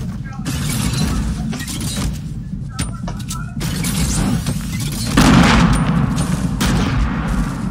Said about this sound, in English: Someone grenaded something here.